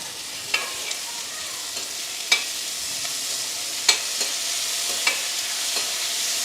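Small onions and tomatoes sauté in sesame oil with a steady, hissing sizzle, broken by occasional sharp scrapes and taps of a spoon stirring the pan.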